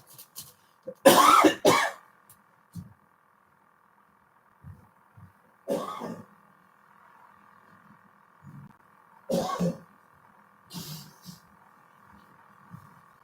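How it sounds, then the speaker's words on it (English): Several close coughs and throat clears come in separate bursts, with quiet pauses between them. "possibly coughing and spluttering a bit"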